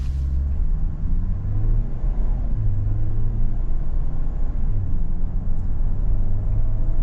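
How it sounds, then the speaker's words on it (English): A 2024 Ford Edge SEL AWD pulls away gently from a stop, its engine giving a steady low rumble with mild revving that holds level and close throughout, no talking over it. "And we take off nice and easy."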